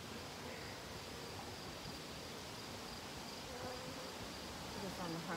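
A dense, steady buzz of many honeybees in a hive fills the clip, a constant close-up drone with no talking.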